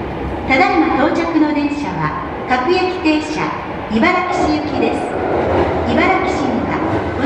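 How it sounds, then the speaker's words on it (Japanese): A Hankyu Kyoto Line train pulls into Karasuma station, its steady rumble and wheel noise running under loud, continuous platform announcements from a public-address voice. "まもなく大阪梅田方面へ向かう電車が到着します。"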